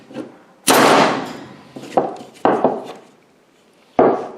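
A Milwaukee 7200-20 framing nailer fires 3.25 to 3.5 inch framing nails into wood with four sharp, loud bangs at uneven spacing. Each shot rings off quickly, and the first blast is the heaviest.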